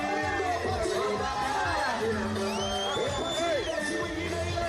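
A political rally crowd in Kisumu cheers for the party leader with whoops, shouts and loud hubbub, while an amplified voice speaks over the noise.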